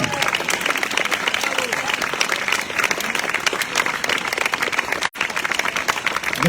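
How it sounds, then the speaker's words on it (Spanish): Loud, dense audience applause for the readers at a themed talk in a Mérida cemetery, continuous clapping with a brief cut near the end. "Pedimos también ahora un fuerte aplauso"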